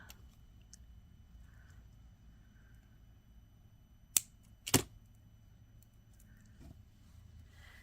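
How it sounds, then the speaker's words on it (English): Wire cutters snip excess beading wire off a handmade bookmark, giving two sharp clicks close together near the middle of an otherwise quiet stretch. "Cut this extra bit of wire off."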